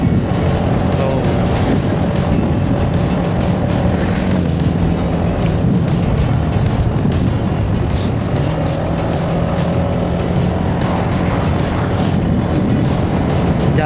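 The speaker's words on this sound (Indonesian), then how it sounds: "Ini kelihatan banyak mobil dan motor yang lalu lalang" Steady stream of cars and motorbikes passing along a wide cross-country road on a drive toward Hulu Sungai, loud and continuous engine and tyre noise throughout with no talking.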